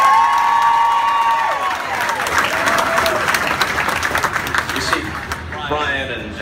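An audience at a media event in an NBC Sports bar and grill breaks into a loud round of applause with some cheering and whoops. The clapping swells, then gradually thins as voices carry over it.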